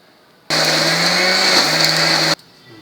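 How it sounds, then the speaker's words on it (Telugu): A kitchen mixer grinder whirs through urad dal, dry red chillies, coriander, salt, tamarind and jaggery, starting abruptly, holding a loud steady whine for about two seconds, then cutting off sharply into quiet. "మినపప్పు ఎండుమిరపకాయలు కొత్తిమీర ఉప్పు చింతపండు బెల్లము వేసి మిక్సీ చేసుకోవాలి"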